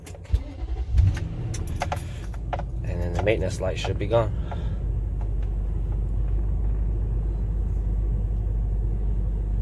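A 2005 Infiniti QX56 SUV engine cranks and catches, then settles into a steady low idle hum, with someone talking briefly over the start and some clicks from inside the cabin.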